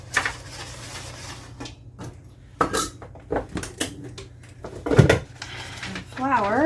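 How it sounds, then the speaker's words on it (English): A utensil clinks and scrapes against a bowl while flour is stirred into honey cake batter, with irregular knocks of dishes and cutlery and a voice speaking at times. "We're going to do the flour, and he says 2 or 3 additions, stirring well after each one"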